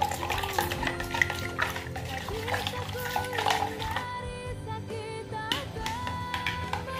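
Aglaonema leaves rubbed by hand in water mixed with lemon dish soap, giving continuous close splashing, swishing and dripping, with faint background music.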